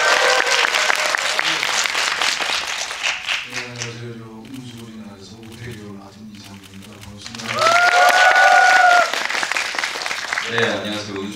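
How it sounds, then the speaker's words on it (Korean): Enthusiastic audience applause rings out at a Korean streaming-series screening and guest talk, with a loud burst of clapping at the start and another later, a voice speaking in between. "박수 소리가 아주 우렁차서 저도 신이 나는데요"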